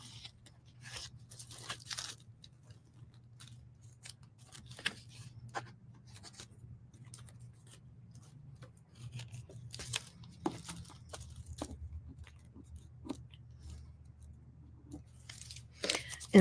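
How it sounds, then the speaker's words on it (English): Washi tape is peeled off a composition notebook cover during a napkin craft, giving quiet, crackly ticks and small tearing bursts scattered over a faint low background hum. "Take off my washi tape."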